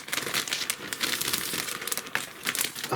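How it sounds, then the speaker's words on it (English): Plastic bags from a Horten Ho 229 scale model kit crinkle and rustle as they are handled and cut open with a knife, close and crisp in a rapid, uneven flurry. "I'll just get my knife so I can cut these plastic bags open."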